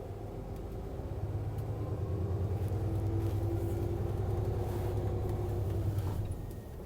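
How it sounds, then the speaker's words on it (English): Paris city bus 86, ridden on a trip to the Left Bank, gives a steady low engine rumble and drone from inside, rising and holding before easing off near the end, with no talking. "We are traveling around Paris on a bus"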